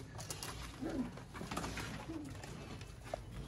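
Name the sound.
Chapda pigeons cooing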